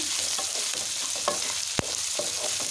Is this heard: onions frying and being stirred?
yes